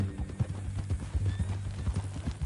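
Horse hooves clip-clopping at a steady walking pace in Red Dead Redemption 2, close and distinct with a regular rhythmic pattern.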